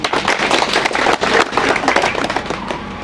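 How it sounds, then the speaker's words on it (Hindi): Guests at a retirement party clapping loudly and vigorously, a dense, continuous burst of many hands close by, sharp and crackling throughout. "आप सब बधाई के पात्र एक बार अपने नाम से जोरदार तालियां बजा दें"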